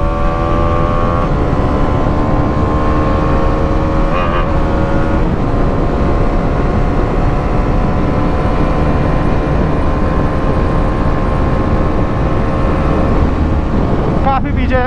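A Bajaj Dominar 400 motorcycle at top speed in a highway drag race gives a loud, steady engine drone, heavily mixed with rushing wind noise throughout.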